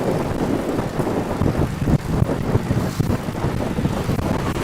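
Ocean breeze blowing at Hoi An, Vietnam, near a bamboo bridge by the water, heard as steady, loud wind buffeting the microphone with gusty low rumble throughout and no voices.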